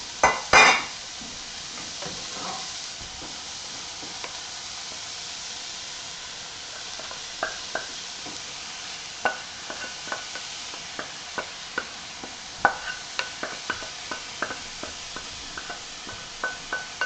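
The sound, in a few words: onions added to browned beef, stirred in pan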